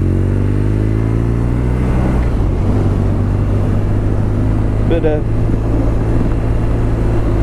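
An 80º R9T Scrambler motorcycle rides with a steady, loud engine drone that shifts pitch midway as it accelerates, with wind rush throughout and a brief voice near the middle.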